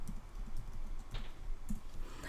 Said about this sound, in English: so excuse my typing.